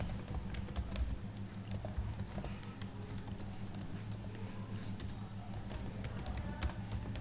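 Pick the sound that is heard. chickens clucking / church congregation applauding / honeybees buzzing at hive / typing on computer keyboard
typing on computer keyboard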